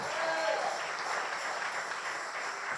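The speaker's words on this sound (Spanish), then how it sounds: "Regálele una ofrenda de aplauso al Señor." A church congregation applauding as an offering of praise during a sermon, a steady broad wash of clapping that holds evenly throughout at a moderate distance.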